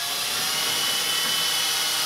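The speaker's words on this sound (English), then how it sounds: "Pre-drill." A power drill pre-drills a hole in a plastic kayak hull while a cleat is fitted, giving a steady, close, continuous whine with no pauses and no talk.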